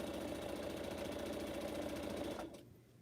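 A sewing machine runs steadily while stitching pineapple quilt blocks, a continuous mechanical whir and rapid needle chatter that stops abruptly near the end, leaving a quiet hum.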